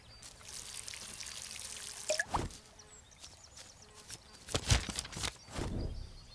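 Watering plants in the Garden Simulator video game gives faint splashing and pouring with irregular bursts of trickling water over a low background hiss.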